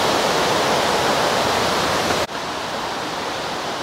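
Mountain river rushing near a waterfall in Yokoya Gorge, its brown, mineral-stained rocks slick underfoot; a steady, loud broadband roar of churning water fills the whole stretch, with a brief dip partway through, and no voices.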